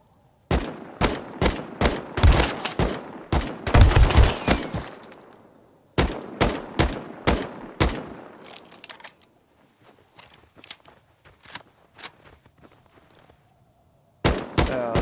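Gunfire in the survival game Rust: rapid bursts of sharp shots, dense volleys early, then a few spaced bursts, a stretch of faint scattered shots and a final close burst.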